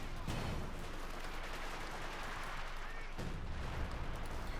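Artillery bombardment pounds a battle group headquarters in the World War II strategy game Company of Heroes 2, a continuous dense rumble of distant shelling with heavier impacts near the start and again around three seconds, no voices over it.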